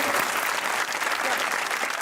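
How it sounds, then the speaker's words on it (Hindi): Steady, dense applause from a studio audience on a Pakistani comedy talk show, loud and continuous for about two seconds with no pause. "गिलानी साहब के लिए भाई तालियां।"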